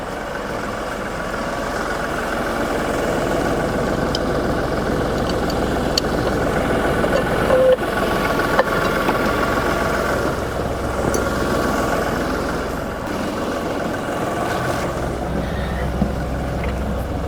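A tractor engine runs steadily at a constant low rumble while the tractor inches forward toward its front end loader, a loud continuous drone with no talking.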